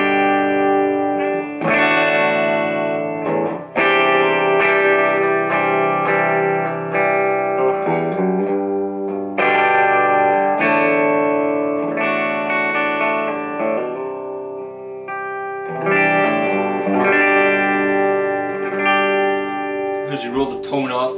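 Gibson Les Paul 2016 Studio electric guitar on its bridge pickup through the clean channel of a Blackstar HT Studio 20 amp, playing ringing chords and single notes with some reverb, loud and close, in phrases broken by short pauses.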